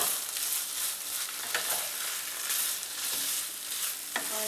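Drumstick pieces frying in masala in a pan, a steady, dense sizzle throughout with the faint scrape of stirring, close and loud with no talk.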